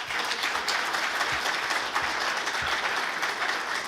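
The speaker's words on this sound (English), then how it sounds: "How about a round of applause for the Schmidts?" Sustained applause from a room of people at a football head coach's introductory press conference, a steady wash of clapping at moderate volume with no voices over it.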